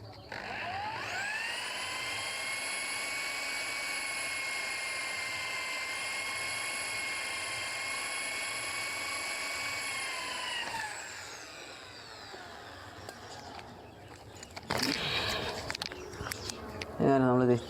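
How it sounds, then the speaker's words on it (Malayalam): A small drill bores a 2 mm through hole for the trigger spring of a homemade crossbow, a steady high whine for about ten seconds that winds down, followed by brief handling noises. "അങ്ങനെ നമ്മളിത് ത്രൂ ഹോൾ അടിച്ചെടുത്തിട്ടുണ്ട് കേട്ടോ"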